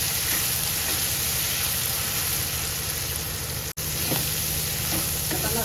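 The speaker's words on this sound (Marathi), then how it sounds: "कांदा परतून घ्यायचा कांदा मस्त सोनेरी कलरवर येईपर्यंत करता आहे आपल्याला" Chopped onion sautés in oil in a pan until golden for a dal-mirchi dish, a loud continuous sizzle with a steady low hum behind it and one brief dropout midway.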